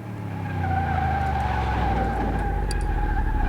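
A Ferrari 458 engine held on the rev limiter in Car Mechanic Simulator 2018, a loud, sustained high-pitched drone with a steady buzzing tone, close and unbroken throughout.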